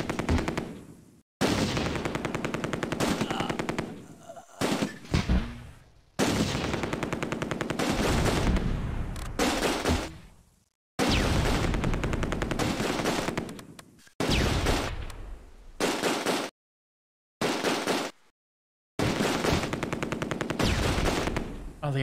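Bursts of machine gun fire from the WWII strategy game Close Combat: A Bridge Too Far rattle in long, loud sustained volleys, separated by brief pauses and short gaps of silence.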